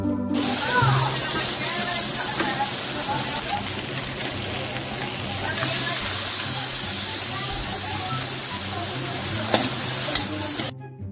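Boiled mung beans hiss and sizzle as they are sautéed and stirred in a hot pan for a Filipino monggo dish with squash, a steady frying crackle with scraping stirs while someone talks over it.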